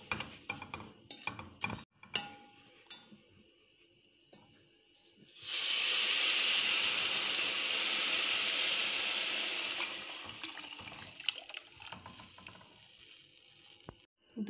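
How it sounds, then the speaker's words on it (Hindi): Milk poured into roasted vermicelli in a pan, a steady loud hissing pour lasting about five seconds after some quiet kitchen clatter, then fading back to low handling noises. "सेवइयों को हमने 3 से 4 मिनट तक भून ली है और अब हम इसके अंदर दूध डालेंगे"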